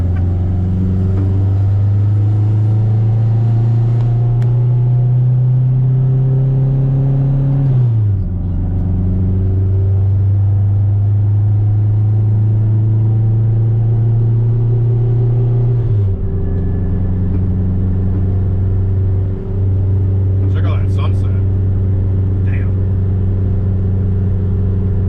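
AWD K-swapped turbo Honda Civic with a twin-disc clutch, engine droning loudly and climbing in pitch through repeated gear pulls, with sharp drops at each shift and faint turbo chirps.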